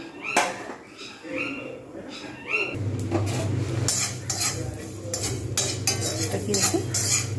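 Dried chillies and bay leaves roasting in a pan while being stirred, with metal utensil clinks and scrapes over a low sizzle, someone talking over it.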